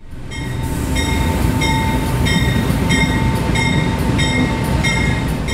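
The Heartland Flyer, an Amtrak passenger train running between Oklahoma City and Fort Worth, Texas, rolls past with a loud, steady rumble and a rhythmic metallic clatter of wheels over rail joints, with a faint high whine throughout.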